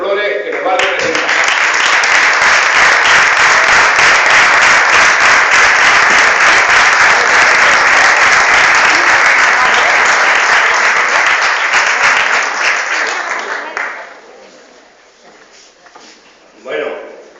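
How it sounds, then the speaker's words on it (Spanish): An audience at a lecture and proclamation event in a hall gives loud, sustained applause that fills most of the clip, then fades to quiet with a brief final burst. "reciban con un fuerte aplauso"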